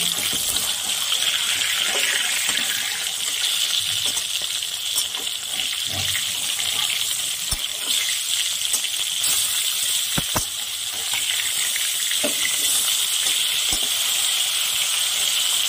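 Phali fish frying in a pan, turned to fry the second side, gives a constant hissing sizzle with scattered sharp crackles and a few soft clicks, no one speaking.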